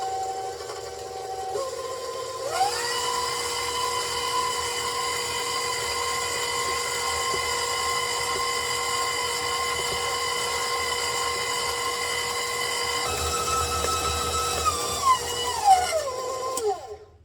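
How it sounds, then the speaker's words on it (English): An electric mixer creams sweet potatoes, shortening and sugar for cookie dough, a steady loud motor whine that switches on, holds for more than ten seconds, shifts speed once and then winds down, with no talking. "We're going to cream the sweet potatoes and the shortening with the sugars."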